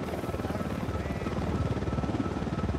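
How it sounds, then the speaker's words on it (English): A patrol helicopter in Ghost Recon Wildlands drones with a steady rhythmic rotor thump, fairly loud and continuous, with no voices over it. "Helicopter, get down!"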